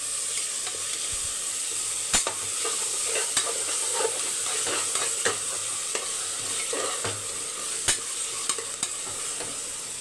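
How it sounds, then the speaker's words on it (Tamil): Chopped capsicum stirred into hot oil in a pan, with a steady sizzle and frequent scraping clicks of a spoon against the metal, close and without any voice. "இப்போ மிக்ஸ் பண்ணி விட்டுக்கோங்க."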